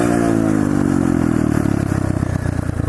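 A pit bike engine revs hard during a wheelie, its loud, buzzy mid-pitched drone rising in pitch and turning choppy toward the end, close and continuous with no talking.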